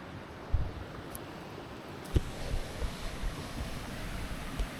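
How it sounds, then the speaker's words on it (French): Small waterfall at a reservoir, a steady broadband rush of falling water mixed with wind buffeting the microphone and a few soft low thumps, fairly faint and continuous with no voices. "Belle petite chute."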